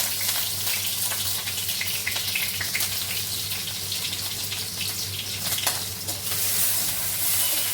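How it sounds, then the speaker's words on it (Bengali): Onions frying in a pan give a continuous close sizzle with scraping stirs and a low steady hum underneath, fairly loud and even throughout without speech. "পেঁয়াজ কিছু দিয়ে দিয়ে একটু ভেজে দিচ্ছি"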